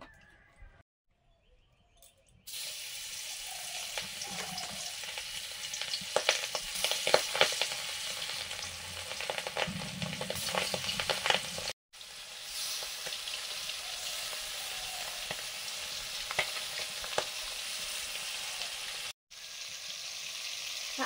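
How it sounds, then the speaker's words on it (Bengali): Baan fish fry in mustard oil with a steady, close crackling sizzle that starts after a quiet opening and stops briefly twice. Birds chirp faintly in the background. "বান মাছগুলো ভাজবো সর্ষের তেল।"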